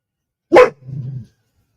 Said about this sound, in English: Or to make the dog bark with the sirens blaring once again.